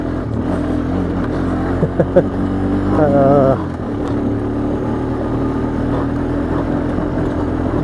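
A cheap Honda Foreman 450ES ATV runs along a trail loop with a steady, close engine drone, a brief rising rev in the middle and a few knocks, while someone talks over it.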